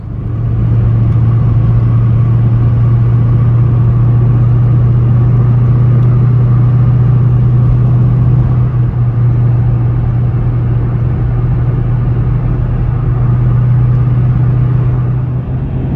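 A Ford Mustang Mach 1 on the road gives a loud, steady engine drone with a deep low hum. It holds constant for the whole stretch with no talking.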